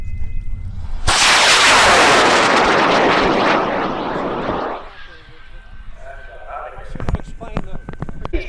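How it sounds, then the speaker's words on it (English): High-power rocket launching on an Aerotech L2200 green motor at the Argonia, Kansas launch: a sudden loud roaring burn lasting about four seconds, then fading away, followed by distant voices and crowd noise. "Rocket weighing 26 pounds in the Aerotech L2200 green"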